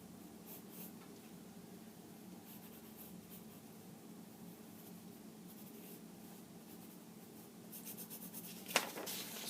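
A drawing being made on paper, heard as soft, steady scratching and rubbing strokes over faint room hiss, with a quick sharp tick near the end and nobody speaking.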